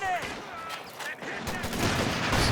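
Gunfire crackles in a Company of Heroes 2 battle, a flurry of sharp shots and bursts with whistling zips overhead, while a commentator talks over it.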